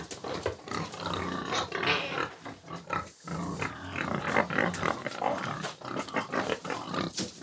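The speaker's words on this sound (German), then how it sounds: "Auf der Schwendbergalm kümmert sich der Zimmerer Lukas um seine Schweine" Pigs grunting in a stall at an alpine pasture hut in the Zillertal, a steady run of close, busy snorts and grunts filling the whole stretch with a brief lull midway.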